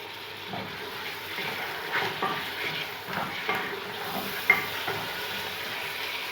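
Beef pieces hit hot oil with browned onions in a karahi pan, setting off a steady, moderately quiet sizzle with soft stirring scrapes and an occasional sharper clink, no voices.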